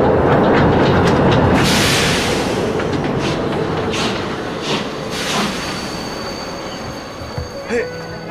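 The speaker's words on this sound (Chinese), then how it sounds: "火车进站，大家往后站" A steam-era passenger train pulls into a crowded station platform in Republican-era China, a loud rumbling roar with clattering wheels that fades over several seconds, with voices and crowd noise around it.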